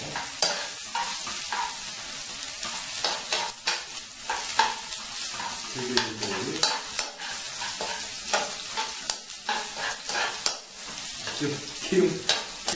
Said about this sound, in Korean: 많이 볶으면 좋겠습니다. 볶아주세요.